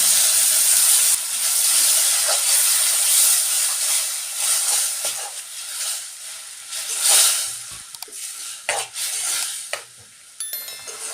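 Pureed tomato hisses and sizzles loudly in a hot pan for baby corn gravy, with stirring scrapes and the sputter gradually easing toward the end.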